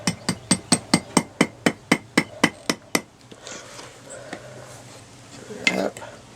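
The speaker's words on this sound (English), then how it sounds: "Start bending it over the horn of the anvil to put our hook in." Hammer blows ring against a horseshoe nail being bent over the horn of an anvil while forging a key hook, about a dozen sharp, evenly spaced metallic strikes, then quieter shuffling and scraping with one brief clank.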